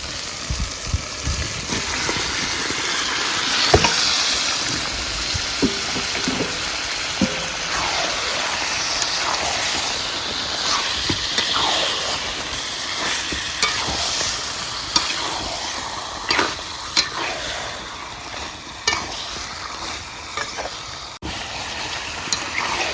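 Chicken pieces sizzle and fry in spiced masala while being stirred, with steady hissing and repeated scraping strokes of a spoon against the pan over about twenty seconds, close and fairly loud, no talking.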